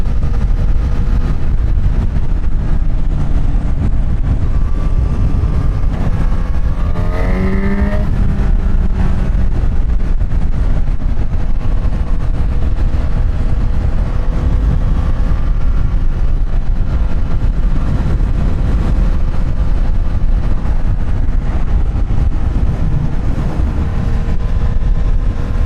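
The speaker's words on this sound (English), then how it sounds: "I was able to really open up the throttle handle" A Honda CB1000 Hornet 1000cc naked motorcycle runs at full throttle with a loud, sustained engine roar and wind rush, and a brief rising rev sweep partway through.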